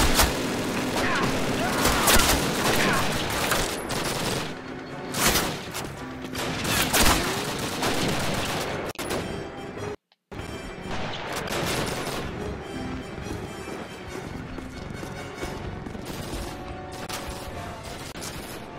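Sustained gunfire and distant explosions in a Call of Duty campaign battle against a stronghold with flak guns, dense overlapping shots and booms throughout, with a voice talking over them and a brief dropout midway.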